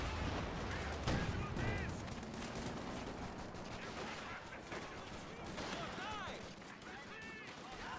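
Rapid machine gun fire from a Company of Heroes battle rattles on among scattered gunshots and explosions, a dense, continuous din of combat with a speaking voice faintly mixed in.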